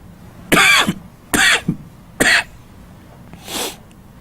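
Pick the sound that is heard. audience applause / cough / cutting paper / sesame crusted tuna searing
cough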